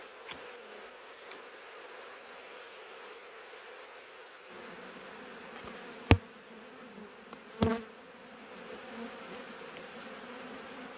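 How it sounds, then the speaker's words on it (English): Agitated honey bees swarming around an opened hive during a hive combine, a steady close buzzing drone with a couple of sharp clicks and knocks. "I went and made these bees mad. They are feisty."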